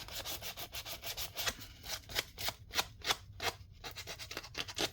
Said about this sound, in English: So if you have like a straggly piece, you can always sand it.